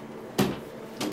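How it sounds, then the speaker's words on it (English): A door thuds shut nearby with a short solid knock, followed a moment later by a softer second bump, in an otherwise quiet room. "Could you close the door, please?"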